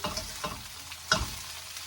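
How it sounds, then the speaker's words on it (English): A tomato sizzling and crackling as it fries in a hot pan, with a few soft stirring scrapes, fairly quiet and close. "So we have the tomato frying in the pan."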